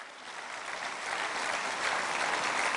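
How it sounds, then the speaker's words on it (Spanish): A church congregation at a Spanish-language service applauding, a continuous wash of clapping that swells slightly toward the end. "denle ese aplauso fuerte al Señor."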